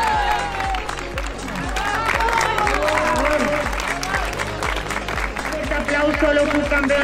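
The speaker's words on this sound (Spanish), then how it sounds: "Un fuerte aplauso para los campeones de España." A crowd applauds the Spanish cadet pairs padel champions, clapping mixed with cheering while music with a pulsing beat plays underneath, moderately loud and continuous.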